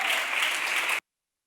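A short burst of steady congregational clapping during a church sermon stays loud for about a second, then cuts off abruptly into silence.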